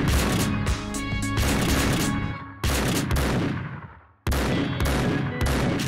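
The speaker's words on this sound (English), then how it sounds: "That shotgun is OP." Heavy shotgun blasts in a video game, loud, booming shots that each ring out and decay, with a brief gap of fading echo before the next blast.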